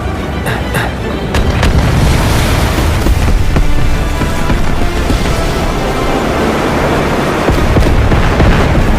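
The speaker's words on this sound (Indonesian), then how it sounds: "Meledak semua ya." Loud rumbling explosions in Final Fantasy VII Remake, a dense roaring blast wash with sharp bursts at the start, sustained heavily for several seconds with no voices.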